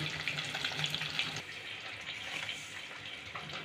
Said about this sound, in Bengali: মাছগুলো ততক্ষণে হতে থাক ভাজা